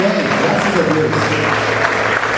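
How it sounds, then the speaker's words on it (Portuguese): A church congregation applauds God during a pastor's first message, a dense, steady wash of clapping that carries through the whole moment, with a voice speaking over it. "Você pode aplaudir a Deus, ao nosso Senhor Jesus?"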